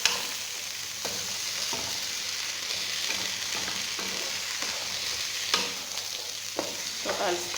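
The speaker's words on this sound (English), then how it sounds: "So I'll stir it nicely." Mixed vegetables including green peas crackle and hiss in a pan as a spatula stirs them, with repeated scraping strokes over a steady bright sizzle and a flurry of quick stirring toward the end.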